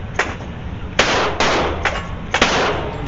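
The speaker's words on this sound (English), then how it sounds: "Shooting 2. Re-grip, aim to the center." Gunshots at an outdoor shooting range during a drill, five or six sharp loud reports spaced irregularly across a few seconds, with steady background noise between shots.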